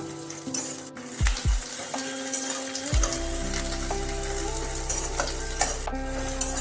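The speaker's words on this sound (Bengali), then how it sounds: "পেঁয়াজটা একটু তেলের সাথে 2-3 মিনিট ভাজতে হবে।" Onions frying in oil in a pan, a continuous loud sizzle with stirring scrapes and a few clinks of the spoon, heard alone without talk.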